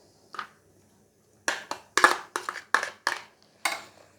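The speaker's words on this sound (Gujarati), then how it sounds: "પહેલા આપણે એમાં દૂધી નાખી દઈશું," Grated bottle gourd for Gujarati handvo drops into a mixing bowl in about eight short, soft, crunchy rustles, arriving in quick irregular bursts close by, with quiet gaps between them.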